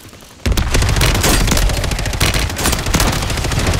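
Loud, dense video-game gunfire: a sudden onset of rapid automatic bursts that merge into a continuous rattling barrage for over three seconds, up close and with no voices.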